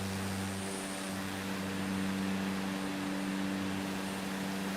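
Twin Otter propeller engines droning steadily in Microsoft Flight Simulator, a constant close hum with a strong low tone and broadband hiss throughout, no speech.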